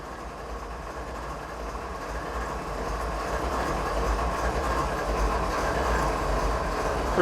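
Freight train rolling past in the Train Simulator 2016 game on a Norfolk Southern coal line, a steady rumbling roar with faint rhythmic wheel clatter that builds slightly louder as the cars pass, heard alone without talk.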